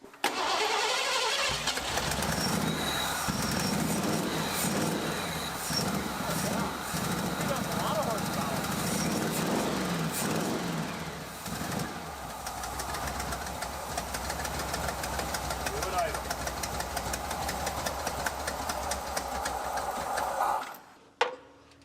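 A 1986 Ford F150 with a fuel-injected engine cranks and runs roughly, struggling to hold an idle, loud and close for about twenty seconds before cutting off, with talk over it.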